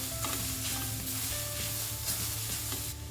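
A spoon stirs grated radish paratha filling in a pan over low heat, with steady soft sizzling and repeated scraping strokes close by, no voices.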